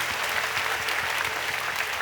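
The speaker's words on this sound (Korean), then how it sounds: "우리 주님께 감사와 영광의 박수 올려드리겠습니다" At a prayer meeting, a congregation gives steady, dense applause, with many hands clapping evenly at a moderate distance.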